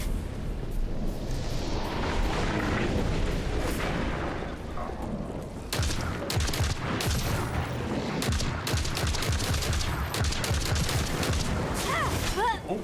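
Artillery fire in a video game, heavy rumbling booms and rapid bursts of distant shelling overlapping in a dense, continuous barrage under game noise.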